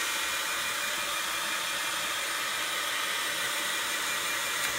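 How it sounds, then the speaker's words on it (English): A heat tool blows hot air over a watercolored card, a loud, steady broadband whoosh running unbroken and close. "I'm going to hit this with the heat tool."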